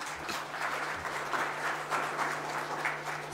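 A room of attendees at a central bank interest rate announcement applauds the Governor, a moderate, somewhat distant round of clapping over a steady low hum.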